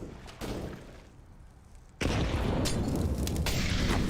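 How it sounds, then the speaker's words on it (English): A flashbang grenade bursts in a Counter-Strike match, a sudden loud blast at about two seconds that stays as a harsh, sustained roar, after softer gameplay thuds and near-silence. "Friendly flashbang there"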